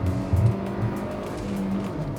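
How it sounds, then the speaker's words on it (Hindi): A Hyundai Creta with a 153 bhp turbo petrol engine and six-speed manual accelerates hard, its engine note droning loud and close while the tires squeal, with a louder burst early on. "153 bhp, around 250 Newton meter of torque, turbo petrol engine, 6-speed manual, calls for some fun."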